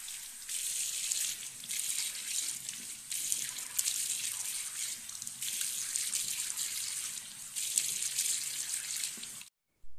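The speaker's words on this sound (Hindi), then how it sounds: "आजकल यार सुबह सुबह ना ठंडे पानी से मुंह धो तो मजा ही आ जाता है।" Tap water runs steadily from a faucet into a sink, a continuous close splashing hiss broken by brief shifts as hands wash a face with cold water in the morning, stopping abruptly near the end.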